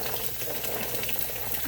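Diced onion added to hot oil in a pan, giving a dense, steady sizzle and crackle that stays fairly quiet and even for under two seconds.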